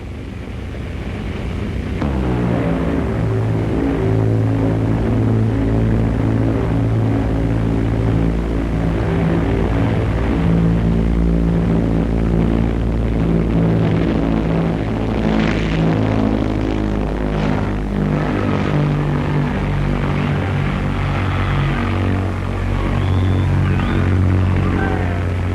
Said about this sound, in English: The 100-seater airliner came over at really low level, a magnificent spectacle at a magnificent show.